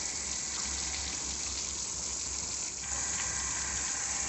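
Water from a pressure pump washout line gushes and streams steadily down sloped solar panels, washing off dust in a continuous broadband rush with no voices.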